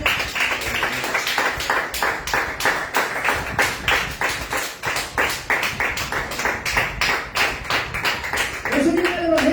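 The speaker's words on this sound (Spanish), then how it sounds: "Denle aplauso al Señor." A church congregation at a preaching service claps steadily in rhythmic unison, a dense run of sharp, evenly spaced hand claps filling the room, with a voice rising briefly near the end.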